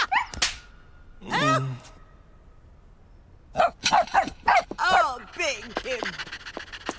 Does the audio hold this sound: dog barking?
yes